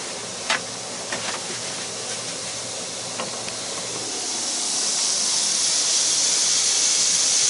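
Cut-up pieces of applewood smoked bacon rendering in a hot pan over high heat, a steady hissing sizzle that swells louder and fuller toward the end, with a couple of faint clicks early on.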